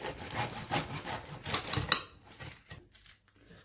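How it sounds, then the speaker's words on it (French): A bread knife sawing through a warm, crusty homemade baguette, with rhythmic rasping strokes and crackling crust for about two seconds, then fainter scraping that trails off into near quiet. "Je vais maintenant découper. Je prends mon couteau à pain."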